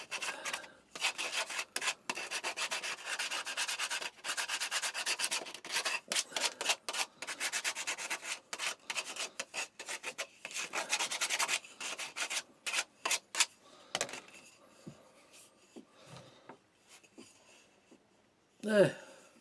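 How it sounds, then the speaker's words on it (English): A wooden magazine rack part being sanded by hand, brisk rhythmic rubbing strokes, loud and close, thinning into scattered scrapes and a final knock. "I'll just sand it down a bit."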